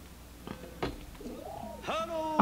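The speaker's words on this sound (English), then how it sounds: "There was that bird when they were recording this V-Live for the album." Pigeon or dove cooing indoors during a V-Live recording, a soft rising-falling coo followed by a louder call, with faint thumps and murmured background sounds around it.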